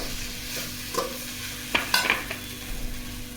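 Ragi idiyappam with sugar stirred and tossed in a pan, soft scraping and light sizzling with a few sharper spoon strokes against the metal, steady and close with no talking.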